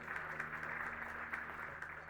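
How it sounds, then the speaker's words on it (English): Audience applause at the Métis National Council Nature Summit in Calgary, Alberta, a steady moderate wash of clapping with a low hum beneath it, running continuously without a break. "Round of applause to the team for bringing this together."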